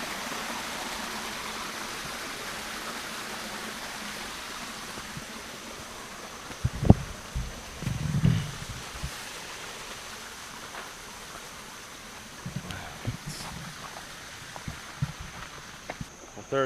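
Water rushing steadily over rocks in a creek at a trail crossing near Yellow Branch Falls, Walhalla, South Carolina, a continuous hiss, with a few brief louder thumps and splashes partway through.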